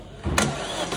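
A 2008 Opel Astra with a 1.8 engine cranks during a compression test, one brief close burst of starter and engine noise that rises sharply and then drops to a steady lower hum.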